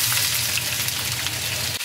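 Chunjang black bean paste stir-fried in oil bubbles with a steady, close, dense sizzle that holds evenly throughout, with no voices.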